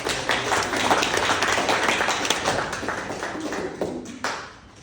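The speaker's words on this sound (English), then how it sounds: "let's all give her a round of applause" An audience applauds a speaker at a chapter house presentation, dense sustained clapping that holds for several seconds before thinning and fading out at the end.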